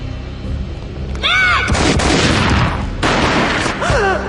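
Gunfire in the video game Max Payne booms loudly in two heavy, echoing bursts, with whooshing slow-motion effects and rumbling between them.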